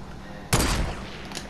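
Gunfire in a PlayStation 4 video game: one sharp, loud burst of shots rings out suddenly and then decays, with a faint crack following moments later.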